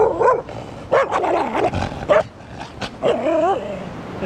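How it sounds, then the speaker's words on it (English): A dog barking and yipping at close range, a run of short, uneven barks broken by whimpering and brief pauses, loud and alone without any talk. "So there we have Mark, bad dog named Demon"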